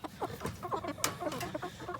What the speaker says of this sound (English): Let's go check on these meat birds.